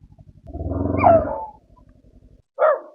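A dog barks nearby, a drawn-out bark followed by a shorter one after a pause, over a faint low hum.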